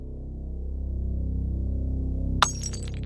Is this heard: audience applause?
no